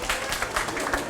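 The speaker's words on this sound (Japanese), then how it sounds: "ね拍手。" Brief burst of clapping from a small crowd at a Fukuoka seafood market, where children have just cut the head off a tuna during a tuna-breaking show; steady, dense hand claps over market bustle.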